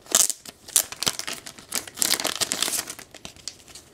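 A mail package is opened up close, with quick bursts of crinkling and tearing paper wrapping that come continuously and irregularly at a moderate level, with no talking.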